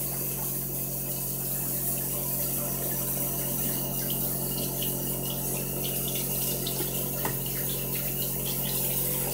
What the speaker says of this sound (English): So now I'm gonna rinse it.